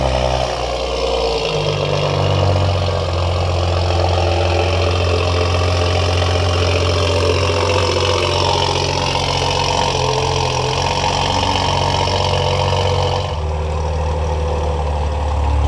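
A Toyota Supra fired up, a brief start followed by a loud, steady engine idle that holds an even, low hum for the rest of the stretch.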